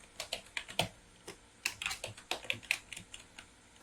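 Computer keyboard typed on in quick, uneven bursts of crisp clicks, close and fairly quiet, with a short pause partway through as a test message is entered.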